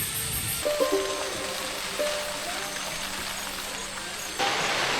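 Rain falls on a hill village, making a steady, even patter and hiss that holds throughout, with a few faint tonal sounds in the background.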